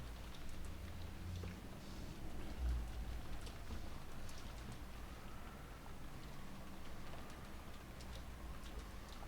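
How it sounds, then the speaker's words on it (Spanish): Steady rain from the Umineko video game, a dense hiss over a low rumble with scattered ticking drops, continuous and even throughout at a moderate level with no voices. "desapareció bajo el sonido de la lluvia"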